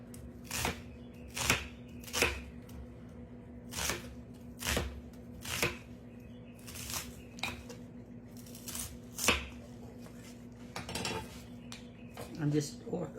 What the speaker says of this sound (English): I'm just doing the onion in just a little bit of a bacon grease. That's what I'm sauteing it in.